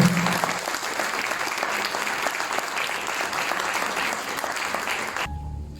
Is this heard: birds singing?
no